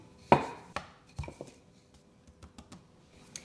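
A rolling pin, one usually used for pasta, works naan dough on a counter, giving soft scattered knocks and rolling bumps, one louder thump early, mostly quiet between, with no voices.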